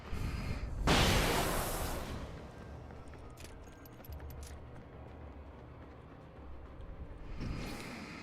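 A grenade explodes in Alan Wake as one heavy, rumbling burst that rolls off over a couple of seconds. Faint clinks and debris follow, and a second softer blast comes near the end. No one speaks.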